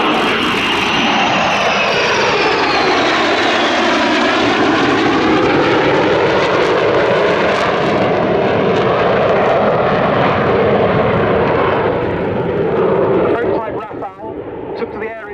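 Two French Navy Dassault Rafale jets fly a display at Yeovilton Air Day 2017, a loud, sustained jet roar that sweeps and shifts in pitch as they pass, fading toward the end, with voices faintly in the background.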